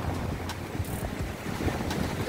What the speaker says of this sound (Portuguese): como está ventando muito e o tempo não está muito firme